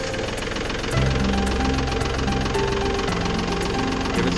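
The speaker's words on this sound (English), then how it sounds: "start the tractor" A tractor engine runs loud and close, a steady low rumble with rhythmic knocking that grows heavier after the first second.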